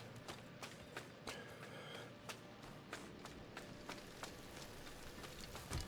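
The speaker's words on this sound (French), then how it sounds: "maintenant il pleut" Rain pattering steadily across the ground in the dark fantasy game Diablo 4, a dense hiss of drops with scattered sharper taps and soft thuds, moderately quiet and continuous with no talk.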